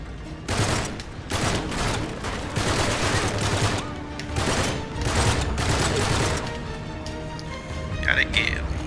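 Rapid bursts of gunfire from a weapon in the video game Uncharted: Drake's Deception, loud repeated volleys through most of the span, with a person talking over the action.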